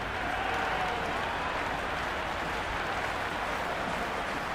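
Crowd noise at a cricket stadium in the Cricket 26 video game, a steady, distant wash of spectators murmuring with faint scattered applause, no voices in the foreground.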